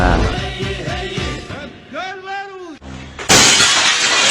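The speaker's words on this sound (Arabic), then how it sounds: "صوت تبسيط الزجاج" Glass shatters with a sudden bright crash near the end, following a stretch of voices talking and vocalizing.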